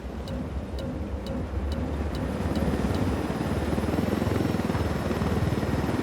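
Heard from inside the cabin, a helicopter in Ghost Recon Wildlands keeps up a loud, steady rotor drone, with a series of faint ticking beeps over the engine noise.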